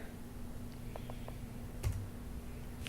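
The F key pressed on a computer keyboard to switch a drawing program to full screen while editing a tattoo design. A few soft, quick key clicks and one sharper tap sound close over a low, steady hum.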